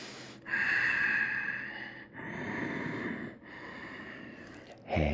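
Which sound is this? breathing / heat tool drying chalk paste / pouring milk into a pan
breathing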